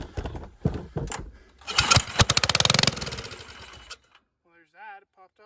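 A long-abandoned John Deere 65 lawn tractor engine, primed with fuel sprayed into the intake, coughs and sputters, then catches in a rapid rattling run before cutting out, followed by a voice.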